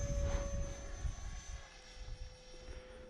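A repaired Arrows Viper RC jet plane flies at a little above half throttle, giving a steady, moderately loud droning whine with a sustained high tone that holds even throughout.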